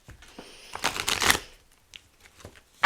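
Tarot cards riffled and shuffled by hand at close range, a quick burst of papery flutters followed by softer taps and slides as the deck is squared, with no talking over it.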